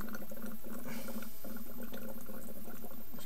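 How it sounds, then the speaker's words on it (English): Homebrew beer fermenter airlock gurgling quietly: a steady bubbling, watery burble that runs continuously throughout, close up and alone with no voices. "Just get everything gurgling back through there."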